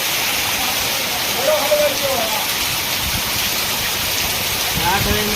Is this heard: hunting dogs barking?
no